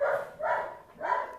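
Dog whining during heel training: three short, high-pitched whimpers in a rough rhythm, fairly faint and close, with no talking over them.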